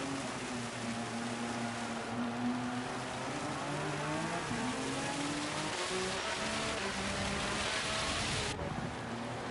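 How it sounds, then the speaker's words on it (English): Steady rain falls over a racing track in a racing video game, with a continuous hiss mixed with whining car engines that rise and fall as the cars pass. "this rain just is relentlessly falling straight towards them"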